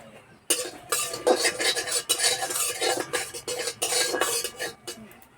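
Whole cumin seeds stirred in hot mustard oil in a kadai while making a potato filling, heard as close, continuous scraping and clinking of a spoon against the pan, with busy rustling bursts and only faint sizzle underneath.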